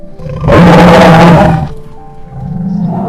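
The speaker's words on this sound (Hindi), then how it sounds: "तभी उसके सामने एक बाघ आ जाता है।" A tiger's loud, sustained roar used as a sound effect in a cartoon story, swelling up and holding for about a second before fading into quieter background music.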